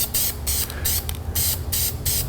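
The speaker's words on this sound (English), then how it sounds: "I actually have a special grease gun with silicone lubricant in it." A grease gun shoots silicone lubricant into a polyurethane suspension bushing on a GMT400 truck front end, giving five or six sharp, loud hissing spray bursts in an uneven rhythm.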